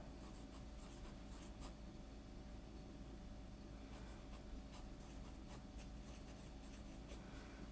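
A pencil writes on a classroom worksheet, producing faint, close scratchy strokes in short bursts separated by pauses, set against a quiet steady background hum with no one talking.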